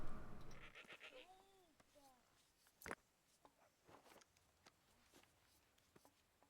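Goat bleats in the village-building game Dawn of Man, a few wavering calls early on, then soft footstep-like taps and small game sounds; fairly quiet throughout.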